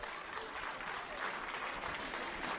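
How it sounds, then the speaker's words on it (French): Faint, steady applause from a seated audience at a debate event, a dense wash of clapping heard from a distance with no voices on top. "je vous demande de l'applaudir très fortement"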